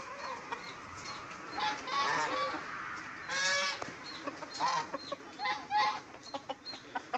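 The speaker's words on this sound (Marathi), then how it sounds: "चला आता टिचलेला अंड कोंबड्या खात्यान" Several hens cluck and murmur close by in short, irregular bursts while eating a cracked egg, with occasional louder squawks and faint pecking sounds.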